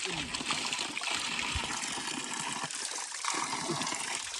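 Steady rushing of flowing water from a nearby stream, a continuous broadband wash with occasional voices mixed in.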